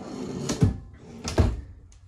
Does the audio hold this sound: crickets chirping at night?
no